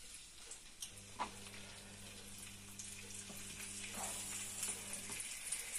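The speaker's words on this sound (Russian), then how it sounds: "Сейчас мы положим сюда их обжаривать." Steady hissing sizzle of chicken rolls with jamón and cheese frying in hot oil in a pan, continuous and fairly close, with a faint low hum underneath.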